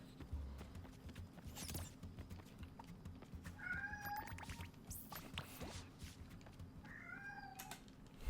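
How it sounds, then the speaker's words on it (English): A pet cat meows twice in the background of a quiet room, faint, drawn-out calls a few seconds apart over low steady hum and soft clicks. "Sorry for my cat in the background."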